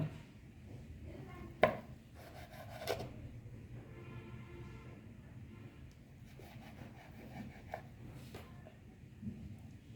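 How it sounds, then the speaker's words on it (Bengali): Knife slicing through rolled khaja dough in a home kitchen, with a few short scraping cuts against a board standing out over a soft, steady background. "এইভাবে কেটে নেবে"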